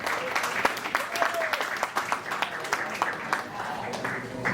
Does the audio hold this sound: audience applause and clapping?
yes